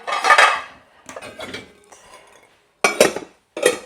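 Pots, pans and cutlery clatter close by as a dishwasher is loaded at home, in bursts of metallic clinks and scrapes with brief pauses between handfuls.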